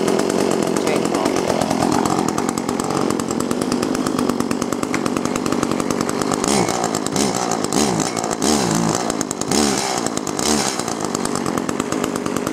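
An Echo CS-400 chainsaw runs steadily after a cold start, its engine droning loud and close for about twelve seconds. Several sharp revs rise and fall near the end.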